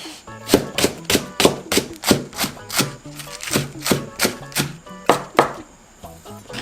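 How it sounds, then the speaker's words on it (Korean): A knife finely chopping green onion (daepa) on a cutting board, a steady run of about fourteen sharp, close knocks at a quick, even rhythm, with no talk. "대파는 대파 가는 걸로 송송 다져서 넣을게요"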